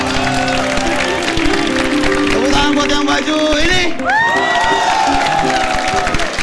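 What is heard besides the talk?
audience applause for the winner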